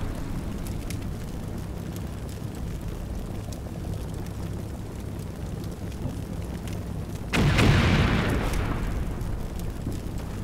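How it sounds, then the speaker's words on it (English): Tanks shelling a trench line in a wartime video game: a steady low rumble of battle builds to one loud, close explosive blast about three-quarters through, then settles back into the dull background roar. "these tanks are going to shoot for 30 seconds on that trench line"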